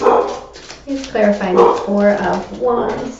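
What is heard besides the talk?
dog barking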